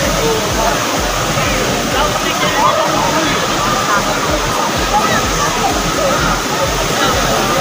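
Taytay Falls in Majayjay, Laguna, a powerful waterfall with a continuous, dense rushing roar that stays steady and close throughout, with faint voices mixed into the wash.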